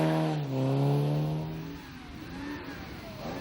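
Rally cars pass through a hairpin on a night stage, engines droning and revving as they swing around, one car's note rising and falling close by before fading into a rumbling wash of distant engine noise.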